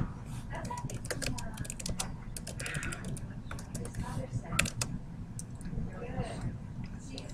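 Rapid plastic calculator button clicks tapped in quick bursts, close up, with a voice talking over them throughout.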